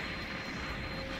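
A steady, loud droning roar from an airplane engine in the video game Gundam Online, continuous and unbroken throughout.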